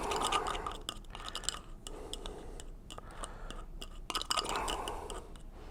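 Dog ear cleaner mixed into a paste inside a small cap during Yorkie grooming gives quick, close scraping and stirring scratches with soft clicks, repeating in short bursts.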